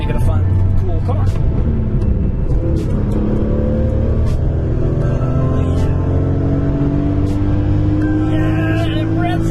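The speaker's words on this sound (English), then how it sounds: "Oh, it just revs. It just wants to rev." Sports car engine, an E46 M3 or C5 Corvette, revving up through the gears on the road. Engine pitch climbs steadily between shifts, loud inside the cabin, with a voice heard over it.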